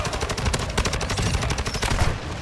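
Rapid automatic gunfire from the Call of Duty Modern Warfare 2 game, a dense burst of evenly spaced shots lasting a couple of seconds, loud and unbroken.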